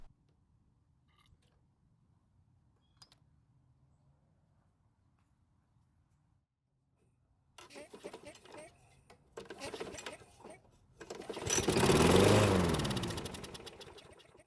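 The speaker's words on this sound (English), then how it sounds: "Luckily it started and ran for almost 2 seconds before slowing down" A long-unused Craftsman lawn mower engine sputters to life after a quiet stretch with faint voices, revving loudly for a couple of seconds in bursts before winding down.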